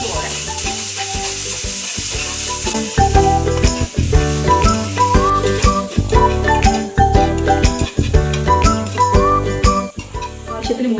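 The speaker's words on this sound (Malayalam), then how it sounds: "ഈ നെയ്യിൽ തന്നെ നമുക്ക് നേരത്തെ നുറുക്കി വെച്ചിരിക്കുന്ന ഏത്തപ്പഴം ഇടാം" Chopped plantain fries in ghee with a constant sizzle, broken by repeated metallic clinks and scrapes of a spoon stirring in the pan.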